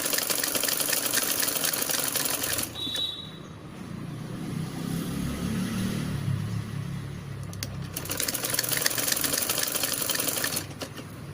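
Sewing machine stitching the side seam of a baby umbrella frock, a fast steady mechanical whir in two long runs with a quieter gap between them.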